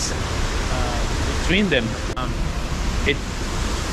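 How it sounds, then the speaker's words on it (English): Two waterfalls roaring nearby as a broad, steady rush of spraying water, with someone talking briefly over it. "there's two waterfalls here"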